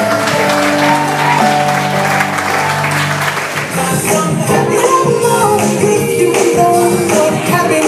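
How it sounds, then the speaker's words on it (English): Audience applause at a live event for Tom and his wife, loud and sustained, rising into a dense, close clapping roar after a stretch mixed with music. "Big round of applause for Christina and her dad"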